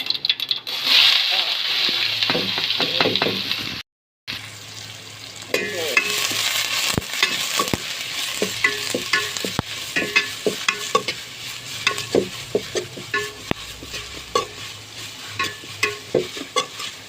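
Fennel seeds and sliced onion fry in hot oil in a pan, a steady close sizzle broken by repeated scraping and stirring clinks from a utensil, with a brief drop to silence partway through.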